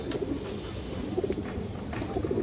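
Soft, repeated cooing of pigeons kept as a fancy breed collection, a steady close murmur of coos with faint background noise.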